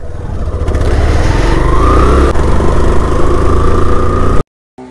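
A Rapido bike taxi motorcycle rides along with a loud, close, steady engine drone that rises slightly in pitch as it accelerates, then cuts off abruptly near the end.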